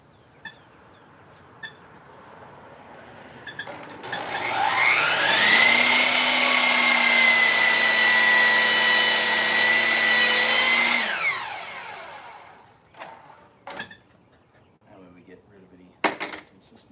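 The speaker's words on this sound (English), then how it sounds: "And we'll trim off the edge here so it's nice and straight." A power tool whines steadily for about seven seconds while trimming the edge of a new countertop, rising to a loud, sustained pitch and then stopping, with scattered knocks and handling sounds before and after.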